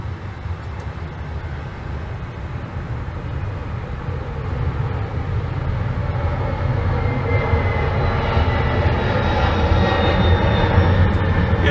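Airplanes fly overhead with a broad, loud engine roar that swells steadily over about twelve seconds as the aircraft draws nearer, heard outdoors with no talking.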